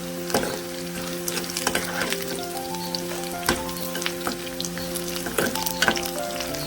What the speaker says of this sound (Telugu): చేదు బాగా వేగితే చేదు అనేది ఉండదండి.